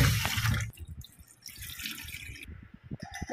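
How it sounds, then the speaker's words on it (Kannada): Finger millet (ragi) grains being washed by hand in water, with close sloshing and splashing that swells and fades in uneven bursts and trickles. No one speaks. "ಇದು ರಾಗಿ ತುಂಬ ಕ್ಲೀನ್ ಉಂಟು, ಹಾಗಾಗಿ ನಾನು ಜಸ್ಟ್ ತೊಳಿತಾ ಇದ್ದೇನೆ."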